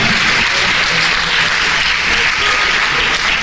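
Church congregation applauding, a dense, loud, continuous wash of clapping filling the whole stretch without pause.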